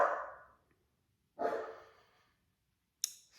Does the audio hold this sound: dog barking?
yes